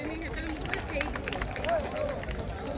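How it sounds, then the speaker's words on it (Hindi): An audience at a company business meeting in Cuttack, Odisha, breaks into brief, dense applause, with a voice and murmuring heard over the clapping. "जोरदार तालियां"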